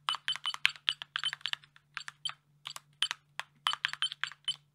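Rapid typing on a split keyboard in uneven bursts, each keystroke paired with a short, high beep from its built-in piezo speaker, close and clear with no voices.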